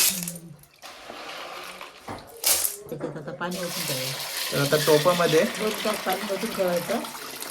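Water splashes and sloshes in a container as shellfish (mhadole) are rinsed clean by hand, with a person talking over the washing sounds.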